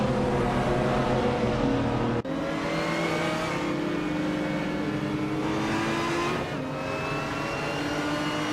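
Race cars roar off the start line in a racing video game, led by a 2007 Lamborghini Reventon, with loud sustained engine drone and rising revs throughout, one brief cut partway in, no talk.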